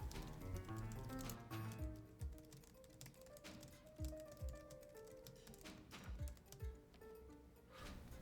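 Rapid keyboard tapping, quiet and close, clicking in uneven bursts with brief pauses between runs of keystrokes.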